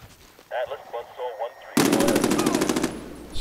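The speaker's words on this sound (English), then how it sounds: "Shotgun." A shotgun fires in the Medal of Honor: Warfighter video game, a loud rapid burst of repeated blasts after short bursts of talk.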